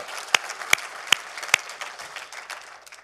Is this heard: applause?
yes